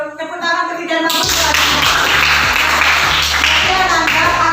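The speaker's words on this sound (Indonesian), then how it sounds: "Tepuk tangan" Applause breaks out in a school classroom during a lesson on human joints, a dense wash of many hands clapping that starts abruptly and carries steadily to the end, with a brief bit of voices before it.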